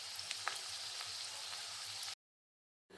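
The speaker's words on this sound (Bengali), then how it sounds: "আমি কিছু সময় পর আরেকটা চপ এই তেলের মধ্যে দিয়ে দিয়েছিলাম আর দুটো চপকে একসাথে ভেজে নিয়েছিলাম" Prawn chops sizzle steadily in hot oil, a continuous crackling fry broken by scattered pops, then a sudden cut to silence before the sizzle resumes.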